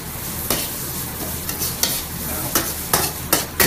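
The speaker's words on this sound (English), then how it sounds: "Moving the onions back and forth." Onions being stir-fried in a wok, a steady close sizzle broken by repeated scraping strokes of a spatula tossing them back and forth at irregular intervals.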